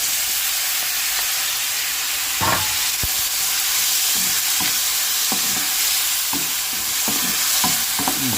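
Tomatoes go into a hot frying pan with a loud, continuous sizzle and hiss, while a utensil stirs and scrapes against the pan in irregular strokes, with no talking.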